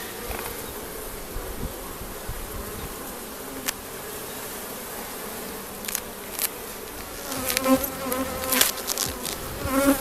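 Honey bees buzz steadily and densely at close range while a hive is opened for a July/August inspection, the drone growing busier with louder passes toward the end; no one speaks.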